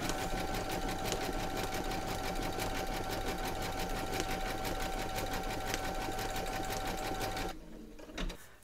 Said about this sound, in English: load your thread colour for the lines into your machine and then stitch round number four